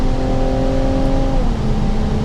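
Ferrari Purosangue V12 engine droning loud and steady, its tone stepping down partway through as a quick downshift drops the revs, heard alone and close from inside the car.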